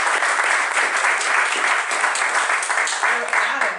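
Meetup audience at a company headquarters office applauds their host, steady dense clapping throughout with a few voices mixed in, moderately loud and close.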